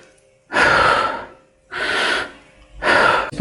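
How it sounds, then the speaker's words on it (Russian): Upper-chest breathing exercise done by lifting the shoulders and collarbones: three strong, close, breathy gusts of air, each about a second long, separated by short quiet gaps, with no talking. "И верхнее дыхание выполняется за счет подъема плеч и ключиц."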